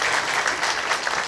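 An audience at a lecture event applauds a lecturer, a brisk, loud burst of continuous clapping from many hands filling the room.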